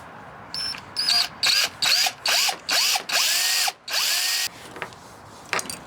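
A power drill fitted with a 3.5mm bit bores screw holes for an escutcheon on a garage door bolt, running in about six short, loud bursts with brief pauses between, the motor whine rising and falling as each hole is cut.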